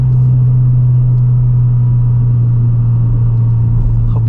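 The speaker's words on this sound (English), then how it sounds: "We're gonna let this idle through the next couple corners." Subaru WRX with STI modifications idling while coasting through canyon corners, a steady loud low rumble with a constant deep drone and road noise throughout.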